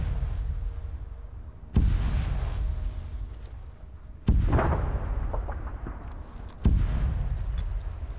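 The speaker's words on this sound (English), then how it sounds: "Artillery's landed." In the video game Project Tension, artillery shells land as three heavy booming impacts spaced a few seconds apart, each a sharp loud blast followed by a long rumbling decay.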